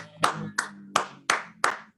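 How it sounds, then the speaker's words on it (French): Five sharp, evenly spaced hand claps at a live show, close and distinct, with short silent gaps between them and no talking. "est-ce qu'on peut faire de gros applaudissements pour tout le monde et puis pour l'équipe et le public qui nous soutient régulièrement?"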